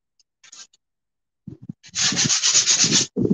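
Wood being sanded by hand with 80 grit sandpaper while building a bird box: a few short scrapes, then a sustained run of loud, close rubbing strokes.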